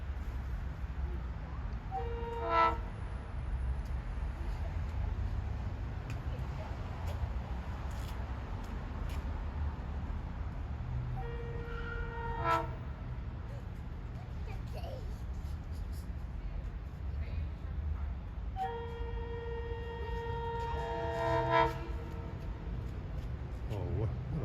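A SEPTA Silverliner IV commuter train horn in Philadelphia sounds three times at intervals, each a chord-like blast of several tones, some distance away over steady low rumble.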